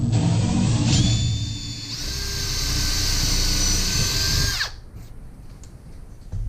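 A power drill whines loudly and steadily for several seconds while driving a screw at an angle into a kitchen cabinet, its pitch shifting slightly as it bites in, then cuts off, leaving quieter room noise.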